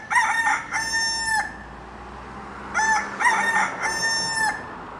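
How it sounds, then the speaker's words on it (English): Rooster crowing sound effect played outdoors near an airport runway: two long, loud cock-a-doodle-doo calls separated by a short pause, each made of several stretched, ringing notes over faint background noise. "There's chickens around here? Nah, it's the sound effects."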